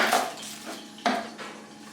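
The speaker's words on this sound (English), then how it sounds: "I'm going to slice this onion up" Knife cutting through an onion on a board while making toad in the hole, two distinct sharp chopping strikes with softer scraping between, close and fairly quiet, no talking.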